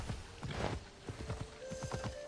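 Horse hooves clip-clopping in a steady trotting rhythm while riding through Assassin's Creed Odyssey, close and clear with a faint musical tone underneath.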